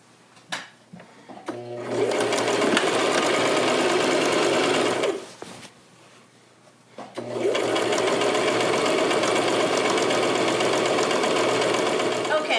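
A sewing machine runs steadily, stitching down the lightly folded-over hem of a wrap skirt's edge, in two long loud bursts separated by a brief pause near the middle.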